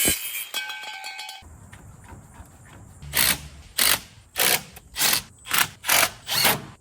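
A power tool cuts intercooler pipes to length in repeated loud bursts, about seven buzzing passes in a steady rhythm after a brief metallic clatter, close and harsh.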